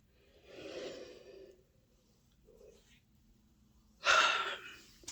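A drawn-out breathy yawn, then a short exhale and a louder gasping intake of breath near the end, close and intimate with no talking.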